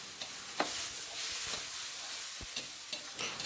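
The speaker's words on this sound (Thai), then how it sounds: "พริกที่เราคั่วเมื่อกี้ลงไปเลยครับ คั่วให้หอมเลยนะฮะ" Dried chilies roast in oil in a pan with a little water, sizzling quietly while a spatula stirs and scrapes in short, sharp strokes.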